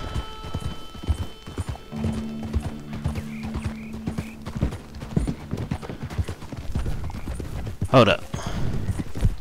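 Horse hooves clip-clop steadily on the ground in Red Dead Redemption 2, the western video game, with a horse whinnying loudly near the end and a voice talking briefly over the hoofbeats.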